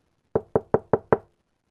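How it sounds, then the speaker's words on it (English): Five evenly spaced knocks on a door, crisp and close, rapping in a steady rhythm and then stopping, with silence before and after. "he gathered his courage and knocked on the president's door."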